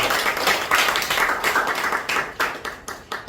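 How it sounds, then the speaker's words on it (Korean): Audience applause after a lecture on semiconductor innovation by Chairman Hwang Chul-joo, a dense spell of hand clapping with a few louder claps standing out, fading near the end. "황철주 회장님께 다시 한번 큰 박수 부탁드리겠습니다"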